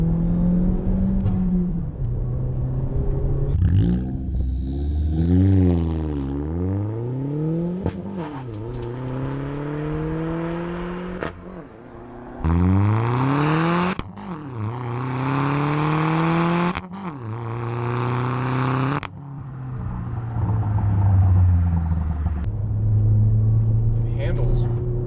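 A modified Chevy Cruze with a small turbo engine accelerates hard through several gears, each pull rising in pitch before a sharp drop at the shift, a loud in-cabin rumble with someone talking over parts.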